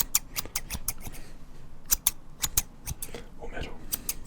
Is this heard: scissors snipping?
yes